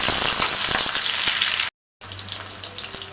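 Onions sizzle loudly in a pan while being stirred, a dense close frying hiss that cuts off abruptly, then returns quieter with a low hum beneath.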